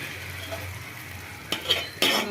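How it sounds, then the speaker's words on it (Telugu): Tomato paste and onion paste go into a pan of paneer curry, giving a low sizzle with a couple of sharp metallic scrapes and clinks near the end. "టమాటా పేస్టు, ఉల్లిగడ్డ పేస్టు వేస్తున్నాం దోస్తులు"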